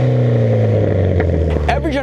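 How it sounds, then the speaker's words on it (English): A modified Mitsubishi Lancer Evolution X with a full exhaust and open wastegate revs hard with a deep, raspy exhaust note, pitch climbing near the end of the short burst. "Combined with the full exhaust, sounds sick"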